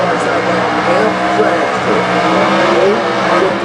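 A drag racing car engine fires up and roars loud and continuous at a national drag racing event, a dense mechanical rumble that carries through the whole stretch with crowd and commentary noise mixed in.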